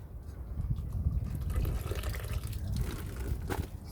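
Water drains from freshly boiled crow garlic, a continuous close trickle and dribble of liquid running steadily throughout without speech.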